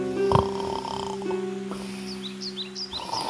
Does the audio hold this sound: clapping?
no